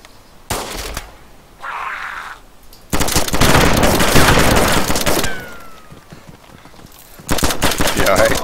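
Gunfire in the video game DayZ comes in loud, close bursts of rapid automatic shots separated by quieter gaps, with a final burst near the end.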